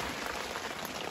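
Heavy rain pours steadily during a thunderstorm at night, a dense, continuous hiss of drops close by with no pauses.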